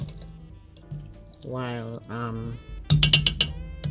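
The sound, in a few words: pouring red label wine and rum onto stewed fruits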